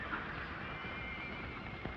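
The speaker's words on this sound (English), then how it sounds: "Diablo's still a wild horse." Diablo, a wild horse in a 1938 western, whinnies in a faint, thin, drawn-out call set against a steady background hiss.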